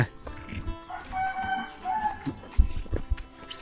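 Chickens clucking with a rooster crowing on a rural Thai farm, loud and close, with several overlapping calls rising and falling over a few seconds.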